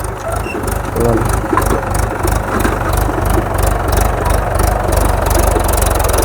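A tractor engine runs steadily while ploughing a wet, muddy field, a loud continuous low rumble with rhythmic pulsing throughout, close to the listener, with someone talking over it.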